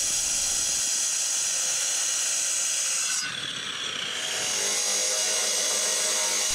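Steady loud hiss and whine of a saw cutting the corners of concrete columns while water is sprayed on them at a Thai house-building site, continuous with a brief dip in pitch midway, no talking.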